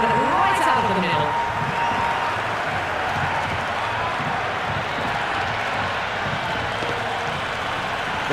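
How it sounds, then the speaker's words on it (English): Raucous crowd at a cricket stadium during an India vs New Zealand one-day international, a dense steady roar of cheering and clapping filling the whole stretch, loud and continuous, with no clear voice standing out. "The crowd are really getting quite raucous."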